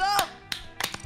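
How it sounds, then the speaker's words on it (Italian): A short burst of quick, crisp claps or taps in Among Us, a few sharp hits spread over a second after a brief voice at the start. "Applauso velocissimo!"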